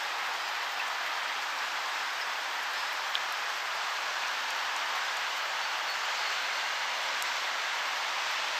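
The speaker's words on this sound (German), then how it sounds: "Und es regnet." Steady, dense rainfall in a riverside forest in Leipzig hisses evenly throughout, a constant wash of drops pattering on leaves and ground with no voices.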